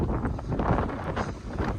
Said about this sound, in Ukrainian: і дує вітер